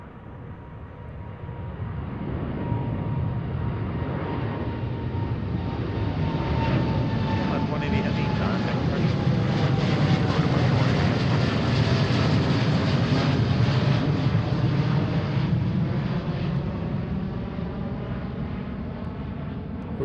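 Boeing 787 in Aurora livery departing Seattle airport, a broad jet roar that swells to a loud peak mid-clip and holds steady as the aircraft passes, with people talking faintly underneath.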